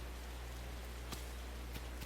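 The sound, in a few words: rain in the video game Hot Shots Golf World Invitational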